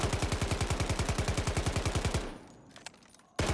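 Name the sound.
gunfire from video game Delta Force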